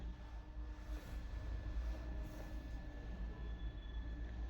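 A train rolling along the rails at steady speed in a children's story about a trip to the seaside: a continuous low rumble with a faint high squeal of wheels, loud and unbroken, with no talk.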